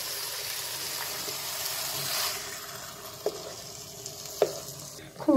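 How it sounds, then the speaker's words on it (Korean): Meat sizzles and is stirred in perilla oil in a pan with garlic, a steady frying hiss with a few scraping clicks of a utensil near the end. "고기를 살짝 익혀요"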